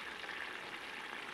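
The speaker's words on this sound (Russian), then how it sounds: "Ну вот, рыбка жарится." Crucian carp dredged in flour fries in hot oil in a pan, giving a faint, steady, even sizzle with no voices over it.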